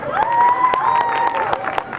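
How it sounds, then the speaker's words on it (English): An audience claps and cheers through a round of applause at a comedy hypnosis show during a harvest festival, with steady crowd noise and a sustained musical tone running underneath. "Give them a big round of applause."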